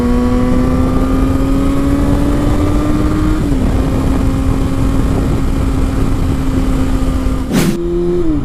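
A 2008 Yamaha FZ6 motorcycle with about 39,600 km on the engine revs loudly and close up, a steady high-pitched whine holding then stepping briefly up and settling near the end, with no talk.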